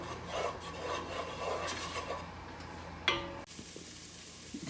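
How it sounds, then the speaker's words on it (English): Turkey bacon being stirred in a pot, a steady scraping, rubbing rasp of utensil against metal under a soft sizzle, with a sharp clack near the end before it quiets. "Start stirring."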